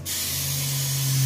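Adhesive spraying onto insulation during a subfloor build: a steady, loud aerosol hiss that runs unbroken and swells slightly toward the end, with a low steady hum beneath it.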